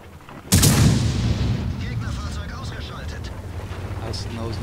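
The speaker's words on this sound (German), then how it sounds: "Jetzt wird schon HE geschossen." A sudden loud boom of a tank firing an HE shell in a video game battle, followed by a long rolling rumble and distant gunfire, with a voice talking faintly underneath.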